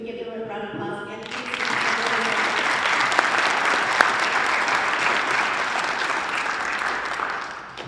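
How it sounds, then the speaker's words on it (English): Educators receive a sustained round of applause from the audience at a school district board meeting, rising quickly after a brief moment of talk and holding steady for several seconds before tapering off. "Can we give them a round of applause again?"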